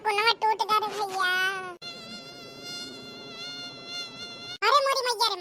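Cartoon mosquitoes whine in a sustained high, buzzing drone, loud and close, framed at both ends by a character's excited, chattering speech.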